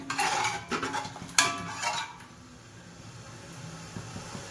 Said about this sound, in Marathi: चांगला हलवून घ्यायचंय मीठ